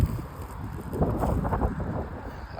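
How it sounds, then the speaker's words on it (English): Outdoor wind near a lakeside campground at midnight, a low rushing gust that swells and buffets steadily, fairly close and without talk. "Man, that wind's picking up."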